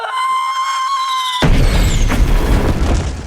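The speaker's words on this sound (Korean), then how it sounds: "타이밍 좋게 폭죽이 터져줍니다" Fireworks in the film A Quiet Place burst with a sudden loud boom that cuts off a sustained high scream, then a dense, rumbling, crackling wash continues.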